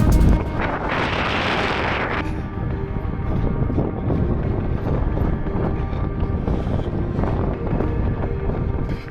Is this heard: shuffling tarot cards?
no